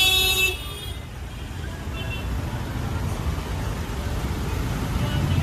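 Road traffic in Sector 19, Airoli, with a short car-horn toot at the start, followed by a steady, close rumble of engines and road noise.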